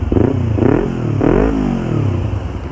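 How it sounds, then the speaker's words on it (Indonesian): A Yamaha MT-25 motorcycle engine with an aftermarket Shaduk exhaust revs close and loud in three quick throttle blips, each rising and falling over a steady burbling idle. "Wow, suaranya seperti ini ya, pakai knalpot Shaduk."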